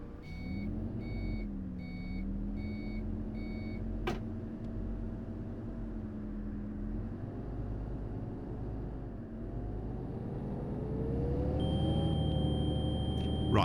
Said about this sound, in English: Right, can you hear that buzzer?